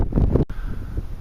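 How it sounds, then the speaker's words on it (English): Wind gusting across an open field in the UK, a steady low rumble of buffeting against the microphone with a brief dropout midway, loud and continuous with no voices. "It's very windy today."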